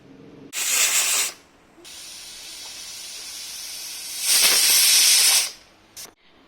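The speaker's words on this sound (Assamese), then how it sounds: "ঢাকনখন লগাই দিম আৰু 2টা হুইচেল মাৰিবৰ কাৰণে দিম।" Pressure cooker on the stove, boiling eggs and potatoes for an egg curry, gives two loud bursts of hissing steam about three seconds apart, with a steady softer hiss between them and a brief puff at the end.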